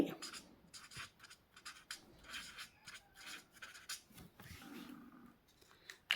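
Pen or pencil writing by hand on paper, with soft scratchy strokes in short bursts and pauses, close and quiet.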